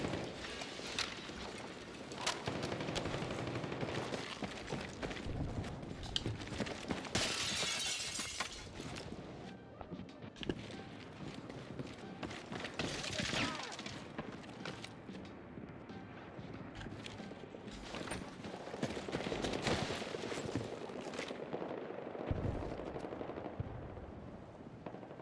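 Sustained gunfire with many sharp shots and bursts, some close and loud, others more distant, running continuously through a tense firefight with little let-up.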